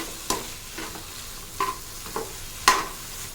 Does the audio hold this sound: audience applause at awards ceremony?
no